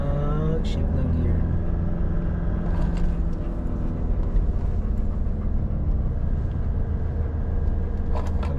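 Steady engine drone from a 2025 Mitsubishi Montero Sport GLX manual SUV climbing uphill on the Marilaque twisties, a continuous loud rumble heard from inside the cabin with someone talking over it.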